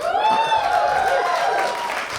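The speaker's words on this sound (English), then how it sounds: "Everybody clapped" A stand-up comedy audience applauds in a short burst of clapping that fills the room and holds steady, with a voice faintly audible over it.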